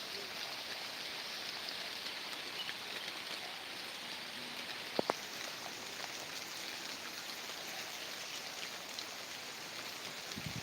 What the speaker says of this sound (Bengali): সকাল সকাল বৃষ্টির আক্রমণ শুরু হয়ে গেছে